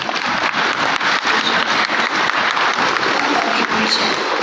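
A large audience of children at a spiritual gathering claps continuously, a dense, even roar of applause held at steady loudness from start to finish without pause.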